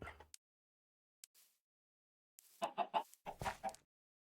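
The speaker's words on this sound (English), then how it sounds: "Hey, chickens." Chickens in a video game cluck in short bursts, a couple of brief clucks early and then a denser run of loud, close clucking after a quiet gap, with no talking.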